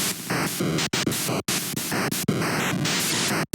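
Harsh bursts of FamiTracker noise-channel notes triggered from a MIDI controller, a loud staticky hiss that jumps between pitched, buzzy tones with brief dropouts between notes, alone with no talking.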